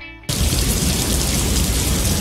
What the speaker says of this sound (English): And of course it has to be raining.